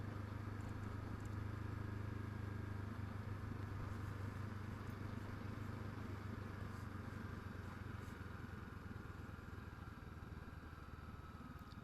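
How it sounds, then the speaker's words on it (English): A sports bike rides down a rough, bumpy country road, its engine holding a steady, fairly loud mid-pitched drone throughout with faint rattles and clatter mixed in, no voices. "This is not the road to ride a sports bike down."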